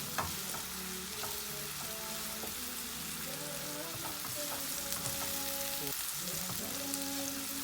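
Onions fry with salt and turmeric in a hot pan, a dense, steady sizzle with occasional stirring scrapes and a faint tonal hum underneath.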